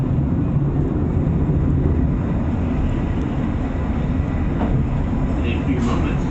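A narrow-gauge zoo railroad train at the Oregon Zoo rumbles along with a steady, loud low-pitched roll and clatter heard from aboard, while a voice talks over it.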